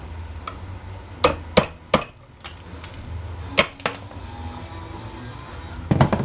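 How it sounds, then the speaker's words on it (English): A hunk of scrap metal used as a hammer smashes apart fluorescent shop lights, sharp metallic and glassy cracks landing in scattered single and paired hits over a low background hum. "I got sick of accidentally throwing my good hammers and wrecking my good hammers just for smashing stuff apart."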